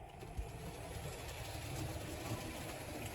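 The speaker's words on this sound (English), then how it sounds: "I'm going to run some trains" Model railway trains running on a layout, a steady quiet rumble and rolling clatter with a faint click early on, continuous throughout with no talking.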